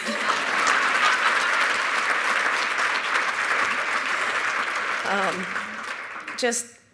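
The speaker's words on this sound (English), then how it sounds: "you can clap for them" Sustained applause from a crowd at an award ceremony, thick and even for several seconds, then thinning out as a few voices and a last clap come through.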